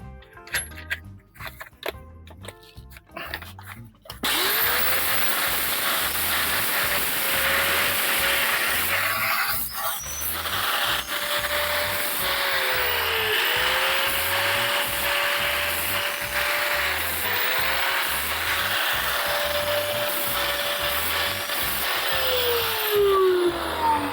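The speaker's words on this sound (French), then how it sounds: "Donc un disque à flap là." Flap disc angle grinder deburring bare car body metal on a 1961 Renault Dauphine under restoration, a loud continuous whine with pitch dips as the disc bites, starting after a few seconds of quieter workshop noise.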